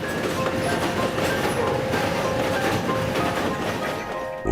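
A train rolls steadily along the rails with a continuous rumble and faint clacking, close and fairly loud, with no voice over it.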